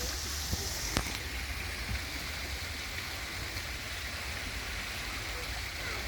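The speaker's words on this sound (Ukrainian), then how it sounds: "тут такий водоспад" Water rushes steadily in a continuous hiss and roar, like a small waterfall close by, with a faint tap or two near the start.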